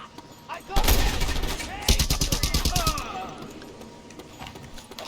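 Rapid bursts of SMG fire in Just Cause 2, two dense volleys of sharp close shots with a brief gap between them, a voice talking over parts of the shooting.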